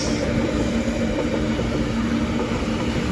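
A goods container train rolls past on the adjacent track, a steady loud rumble of wagons with a low hum throughout, heard from aboard a stationary passenger train near Kuppam.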